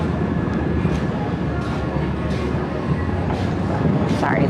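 Underground trains passing below a New York City street grate art installation on an icy winter walk give a continuous heavy rumble and rushing roar, with a few faint higher rattles near the end.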